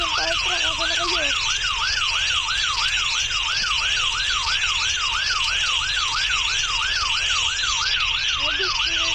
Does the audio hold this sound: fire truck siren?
yes